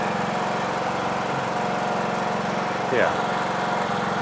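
An old John Deere tractor engine idling in a barn makes a close, loud, steady low chugging pulse throughout, and a voice briefly speaks over it.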